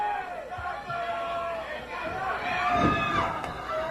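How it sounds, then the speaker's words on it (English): Wrestling crowd at Miss Kitty's in Georgia cheering and shouting in a steady, excited roar that swells toward the end, with a commentator's voice over it. "This crowd is pumped up here at Miss Kitty's"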